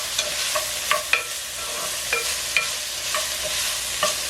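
Steady, close sizzling of onion and pepper frying in a pan, with occasional scraping and clinks of a utensil stirring. No voices.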